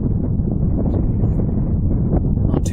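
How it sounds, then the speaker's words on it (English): Strong wind buffeting the microphone on a golf course, a constant low roaring rumble with gusty fluctuations and no clear voices. "It's bloody wind."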